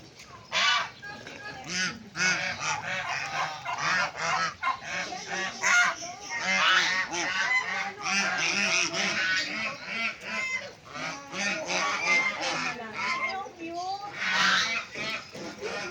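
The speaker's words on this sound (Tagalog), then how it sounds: "ang ingay nila. Gansa." A flock of geese on a farm in Tagaytay honks continuously and loudly up close, overlapping calls in a noisy chorus, with people talking underneath.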